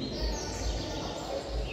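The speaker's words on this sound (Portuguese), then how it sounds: "Hoje aqui vai ter uns 150 passarinhos. 150 coleiros." Coleiro songbirds chirp faintly at a bird song tournament in Cabo de Santo Agostinho, thin high calls over a low outdoor rumble, distant and quiet.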